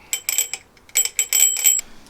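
A broken bell on a retro Schwinn beach cruiser gives a string of short metallic rings in two quick clusters, bright and close with a slightly off tone.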